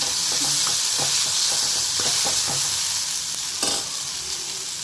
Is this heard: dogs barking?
no